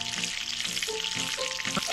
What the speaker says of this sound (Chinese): 锅中倒入少许油，爆香洋葱、